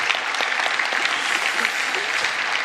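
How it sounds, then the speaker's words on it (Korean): A church congregation applauding during a New Year's Eve worship service, dense sustained clapping from many people throughout, close and loud. "지금까지 인도하신 우리 하나님께 영광과 감사의 박수 올려드리도록 하겠습니다"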